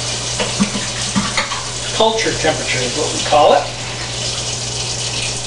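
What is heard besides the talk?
tap water filling a sink with warm water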